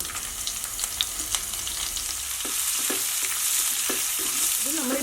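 Sliced onion frying in hot oil for a chutney, a steady broad sizzle with a spoon scraping and stirring through the pan at close range, no voices.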